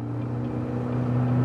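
A Mercury 115 horsepower outboard motor drones steadily with strong low humming tones, rising slightly in loudness toward the end as it accelerates.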